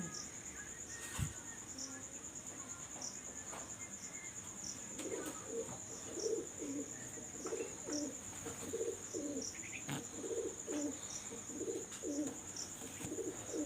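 Teddy golden kamagar pigeons with red eyes coo softly in a loft, a series of short rolling coos repeating in bursts, joined by faint insect chirring and a steady high electrical whine.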